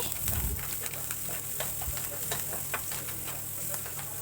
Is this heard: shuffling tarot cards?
no